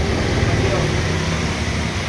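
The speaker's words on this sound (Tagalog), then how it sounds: "Malakas na naman ang hangin at ulan." A strong typhoon wind roars continuously, a dense, steady rush of broadband noise close to the microphone, with the rain blending into the gusts and no distinct break in the sound.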